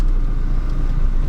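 A VAZ 2114 car rolls along slowly, its low engine rumble and road noise steady and close, as if heard from inside the cabin.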